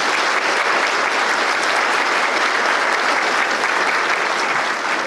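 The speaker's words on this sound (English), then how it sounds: "let's give our sponsors a rousing round of applause" Dense, steady applause from an audience at a chamber of commerce annual dinner, many hands clapping at once in a sustained, even wash of sound throughout.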